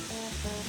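A beef blade steak drops into oiled metal on a mini folding teppanyaki griddle, producing a brief, loud, close hissing sizzle.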